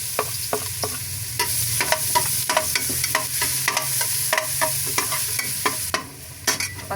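Garlic sautés in a hot pan for lomi under a constant sizzle, with frequent sharp scrapes and clacks of a spatula stirring, close up and with no talking.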